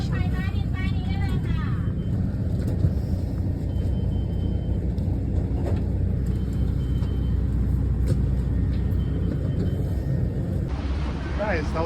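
The A1 airport bus heading to Mochit BTS station in Bangkok carries a constant low engine drone and road rumble through the ride, with muffled voices now and then over the steady hum.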